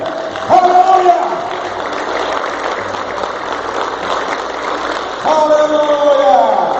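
A church congregation applauds during a Holy Communion service, a steady, dense wash of clapping that lasts throughout, while a voice rises over it at the start and again near the end.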